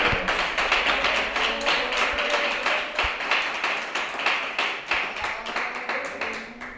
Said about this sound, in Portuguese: desocupa as mãos, eleva a Deus com aplauso